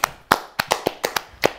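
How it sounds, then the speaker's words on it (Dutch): A small group claps briefly and close by, about eight sharp, separate claps in an uneven rhythm. "Doe even applausje."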